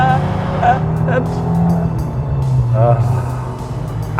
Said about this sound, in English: when you're cruising around town and you're going through the gears, you get that lovely roar.